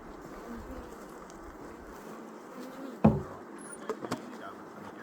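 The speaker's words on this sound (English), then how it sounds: "There's so many bees in there, they need it." Honeybees hum in a dense, continuous buzz around a hive as a super is added, with a sharp wooden knock and a few lighter taps from the hive boxes partway through.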